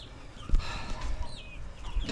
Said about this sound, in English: And here's our chickens. They are getting so big